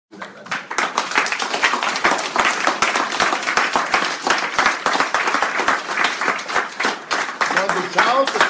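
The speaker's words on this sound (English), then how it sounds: "let's give you a round of applause." A class audience breaks into a round of applause indoors: dense, steady clapping from many hands for several seconds, close and loud, with voices in the background.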